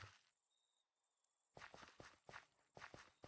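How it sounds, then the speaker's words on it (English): Crickets or cicadas chirring in the Minecraft ambience, a soft, rhythmic pulsing trill that drops out for a moment and then resumes with faint soft footsteps. "we got the immersive sounds with the crickets or cicadas, whichever you prefer"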